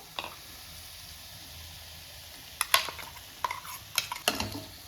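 A spoon scrapes and clinks against a pan as ground paste is stirred and sautéed for a vegetarian drumstick paaya, with a few sharp knocks in the latter half over a low background sizzle and no talking.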